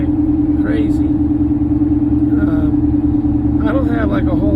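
A car drives along the road at almost 5 a.m., its steady low rumble and constant droning hum carrying under intermittent talk.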